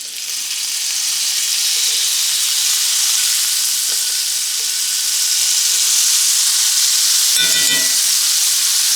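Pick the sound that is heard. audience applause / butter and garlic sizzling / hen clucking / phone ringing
butter and garlic sizzling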